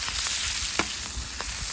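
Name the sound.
chicken frying in oil in a paella pan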